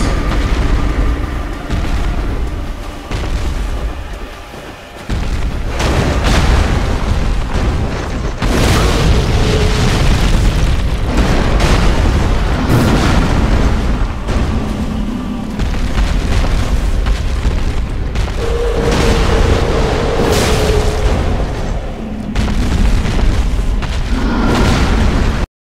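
Yhorm the Giant's ranged attacks in Dark Souls pound out loud, heavy booms one after another, thick rumbling blasts layered almost without pause over a dense roar.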